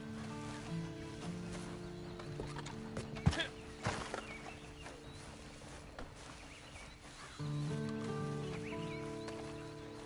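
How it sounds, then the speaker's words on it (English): Horse hooves clop against the ground at intervals in a video game, over a droning musical background, with a few sharp knocks mixed in. "Then you better get on this horse."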